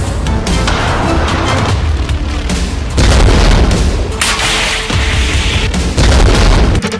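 Explosions from Hezbollah Almas missile strikes on Israeli targets: a run of heavy, loud booms and blasts with rumbling, crackling bursts repeating over several seconds.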